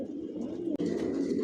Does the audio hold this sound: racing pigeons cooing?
yes